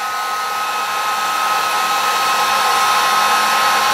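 A heat gun on its lowest setting blows a steady, loud whooshing hum with a faint whine as it shrinks heat shrink tubing on a crimped 500 amp cable, running alone without any talk.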